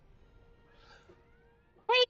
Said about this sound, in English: Oh God, the cat.